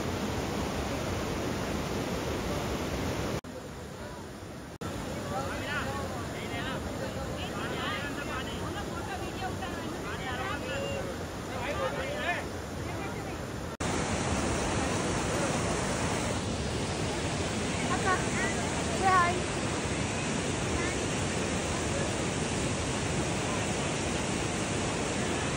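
A mountain stream at Doodhpathri in Kashmir rushes between rocks in a steady, dense roar with no break. A short quieter patch comes partway through, and the flow returns louder afterward.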